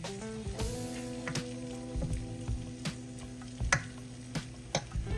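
Jambalaya being stirred and mashed down in a hot pot, a steady sizzle underneath with repeated sharp scrapes and knocks of the spoon against the pot at an uneven rhythm, close and fairly quiet.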